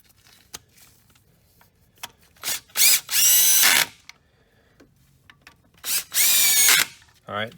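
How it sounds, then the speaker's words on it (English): A small DeWalt cordless drill drives head bolts on a 2011 Chevrolet Malibu 2.4L engine in two loud whirring runs of about a second each, separated by quiet pauses and light clicks. "I'm just going to drop them in and run it up with my little DeWalt drill"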